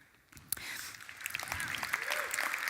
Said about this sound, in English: You guys are a clap-happy crowd.